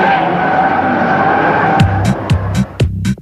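Drifting car tires squealing over a steady engine roar, the sustained screech giving way to several sharp stuttering chirps, loud and near, with no talk.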